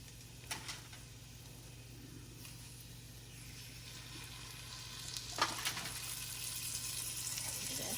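Lamb chops sizzle steadily in a hot frying pan, a soft continuous crackle with a couple of faint clinks and rustles.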